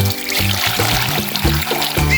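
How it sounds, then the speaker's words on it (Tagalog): Water poured out for farm animals to drink in a backyard, a steady splashing trickle with uneven gurgling pulses, close and fairly loud, with no talk. "maglalagay tayo ng tubig para may maiinom sila"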